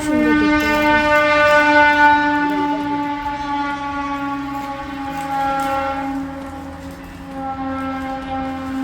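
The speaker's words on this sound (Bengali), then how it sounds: "তো পাহাড়ের পাশ দিয়ে যখন ট্রেনটা যায় খুব সুন্দর দেখতে লাগে।" A train passes beside a hill near a resort in rural Purulia, its long sustained horn blaring loudly and steadily for several seconds over the low rumble of the cars, with no talk.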